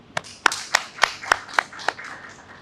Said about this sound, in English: A round of applause for them too.